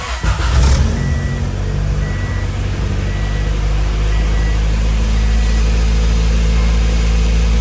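Acura Integra DA9 fitted with an HKS/Revel exhaust, heard idling up close with a steady, deep rumble after a brief blip at the start, the drone holding constant throughout.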